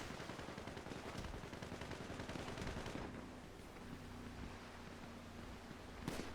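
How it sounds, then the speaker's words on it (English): Sustained gunfire in a video game as a character opens fire on a boat, a dense loud rattle of rapid shots for the first half that eases into a quieter, steadier background din with a sharp burst near the end. "Jeb opening fire on the boat"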